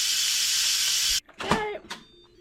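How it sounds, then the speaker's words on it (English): A pressure cooker lets off steam in a loud, steady hiss that stops abruptly, followed by a few clattering kitchen sounds nearby. "let's natural release the rest of the steam"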